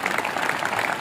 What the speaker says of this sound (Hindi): भाई इनके लिए भी ताली बजा दीजिए।